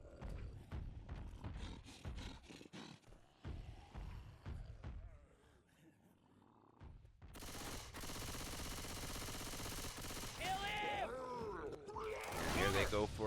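Rapid gunfire in a competitive multiplayer shooter match, sustained bursts of shots, the pace picking up toward the end, with a commentator talking over it.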